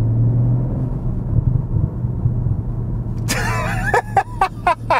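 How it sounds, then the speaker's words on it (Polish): Low engine rumble from a BMW M340i xDrive idles under a faint voice, then after a few seconds a sharp burst of artificial popcorn crackle from the exhaust gives way to several quick, distinct pops. "to jest, słuchajcie, sztuczny popcorn, jak babcie kocham"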